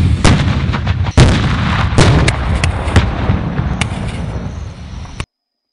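Loud, booming blasts from the controlled detonation of unexploded cluster bombs in Laos, several heavy thuds and rumbles overlapping in quick succession before cutting off abruptly.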